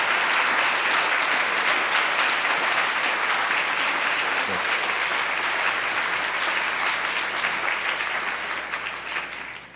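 A large business-talk audience applauds in a sustained, dense round of clapping that holds steady and then begins to taper off toward the end.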